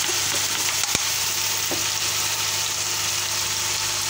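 Vegetables tossed with salt, chili, turmeric, black pepper, garam masala and soy sauce fry in a pan, giving a steady, close sizzle with a faint clink of stirring near the start and no voices.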